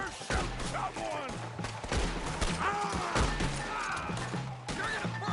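Scattered gunshots crack through a Red Dead Redemption 2 shootout, irregular bursts mixed with shouted voices and background music, moderately loud and cluttered.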